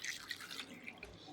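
Water poured over cut white pumpkin (ash gourd) pieces in a bowl, a brief soft trickling and dripping splash heard close up, low in level.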